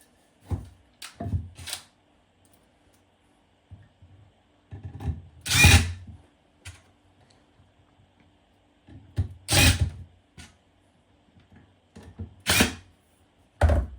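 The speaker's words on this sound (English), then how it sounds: "I've already put 3 drill holes in for my screws. So I'll put them in now." Short bursts of a power drill driving screws into pre-drilled holes in wood a few times, separated by quiet pauses and small handling clicks and thumps, fairly close.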